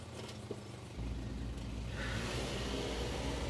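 A car engine hums low and steady in the video game Scarlet Hollow, then swells into a louder, fuller drone as the vehicle gets going, with no talking.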